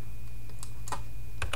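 Numbers are typed on a computer keyboard, a few soft, sparse keystrokes close by over a quiet hum, ending in a small cluster of taps.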